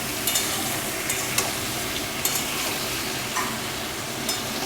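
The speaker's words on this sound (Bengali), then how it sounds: "সুন্দর করে আগে আলুর সাথে পটলটা ভেজে নিতে হবে।" Potatoes and pointed gourd fry in a pan with a steady moderate sizzle, punctuated by several sharp clicks and scrapes of a spatula stirring against the metal.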